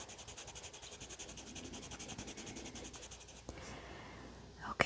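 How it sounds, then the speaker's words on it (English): Soft rhythmic rubbing of an eraser scrubbing out a charcoal pencil outline on drawing paper, in quick regular back-and-forth strokes that stop near the end, close and quiet. "Just want to erase that outline there."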